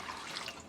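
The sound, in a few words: ice cold water poured into wing sauce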